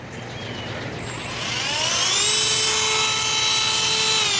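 A Dremel rotary tool rounds off the edge of a metal survival tool blank, a high whine rising in pitch as it spins up and then holding a steady, loud grinding tone with bright overtones.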